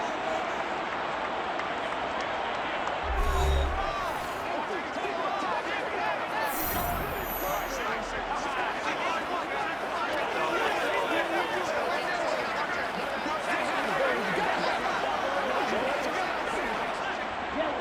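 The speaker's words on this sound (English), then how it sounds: "And that might be exactly what they needed to wake up this home crowd." A stadium home crowd in the Madden 23 football game roars with a dense, continuous wash of cheering and babble, loud and constant, with a few low thumps early on.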